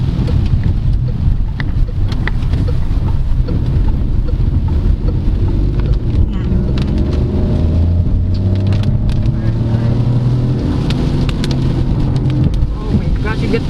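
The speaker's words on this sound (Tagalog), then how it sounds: "the engine sounds really, really good" A 2022 Peugeot 2008 Allure subcompact crossover accelerates on the road, its engine a steady low drone that climbs under heavy road and wind rumble, with a voice talking over it.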